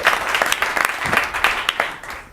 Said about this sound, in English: a round of applause to Nate